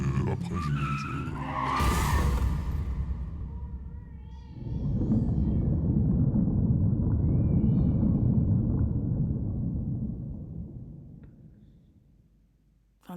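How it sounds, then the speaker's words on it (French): A car skids with a loud tire screech that swells and cuts off, then a long roaring crash-like rumble that slowly fades to near silence, used as a sound effect in a rap song intro. "j'ai entendu une voiture qui a roulé je crois. Elle a roulé, j'ai entendu un accident"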